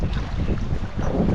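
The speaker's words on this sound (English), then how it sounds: "It's so windy, guys, right now." Strong wind buffets a fishing boat on open water, a loud continuous low roar and rumble against the microphone for the whole brief moment.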